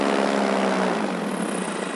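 Paramotor engine droning steadily at close range during a landing approach, a loud, continuous buzzing roar with propeller whine that holds even throughout and eases slightly toward the end.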